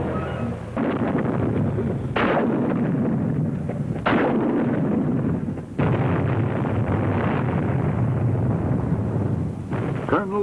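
Marine combat engineers blow up enemy fortifications in the Vietnam War, producing deep, heavy rumbling blasts with several sharp onsets that roll into sustained, wind-buffeted roaring, loud and continuous.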